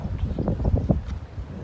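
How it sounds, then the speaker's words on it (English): Steady wind buffets the microphone with low rumbling gusts at the upper gorge lookout, Boodjamulla, Australia, with no voices heard. "Yes, a bit windy. It's very windy."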